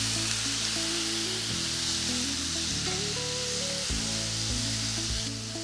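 Onion and tomato hit hot frying spices for a Veg Kolhapuri curry, giving a loud, steady sizzle that fills the whole stretch, with a low hum underneath and no talking.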